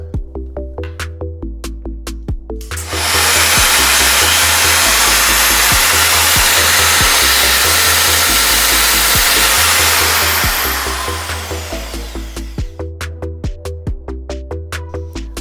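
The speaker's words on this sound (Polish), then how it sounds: "Wkładam wiertarkę, zakładamy rurę od odkurzacza i wiercimy." A loud, steady whine of a power drill with a vacuum hose attached, boring holes for cam-lock fittings with a positioning jig, lasting about ten seconds between stretches of rhythmic machine hum.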